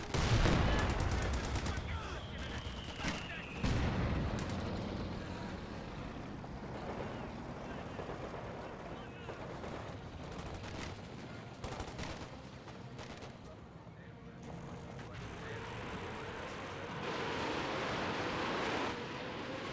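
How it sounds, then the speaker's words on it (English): Artillery barrage in the Company of Heroes 2 strategy game, with heavy booming impacts, rattling machine-gun and rifle fire, and constant battlefield rumble, loud at the start, then steady and layered under a commentator's speech. "There's another coordinated barrage somewhere."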